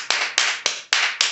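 Five sharp hand claps in a steady, evenly spaced rhythm, loud and close, with no talking.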